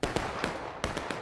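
A ragged musket volley fired on command in a Civil War battle game at Pry Ford, several sharp pops landing in two uneven clusters, moderately loud with no voices.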